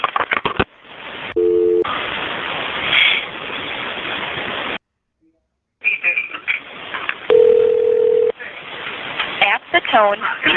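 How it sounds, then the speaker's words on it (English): Telephone paging system tones on a sheriff's department dispatch line: steady beeps and a held tone alternate with plain talk and brief silent gaps, all heard close over a phone line. "At the tone, please enter your touch tone telephone number."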